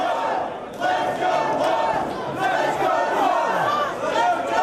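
A wrestling arena crowd at a Samoa Joe versus CM Punk match roars and chants, a busy wash of shouting voices that swells and surges continuously.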